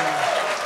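A brief, loud burst of dense crowd applause at a mentalist and mind-reading stage show, even and sustained throughout.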